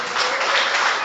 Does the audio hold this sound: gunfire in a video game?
no